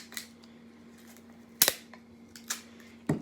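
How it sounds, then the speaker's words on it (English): A piece of tape is pulled and torn off while a sock puppet is made, heard as a few short, crisp crackling bursts against a steady low hum in a quiet room. "Now I'm gonna get a little more tape."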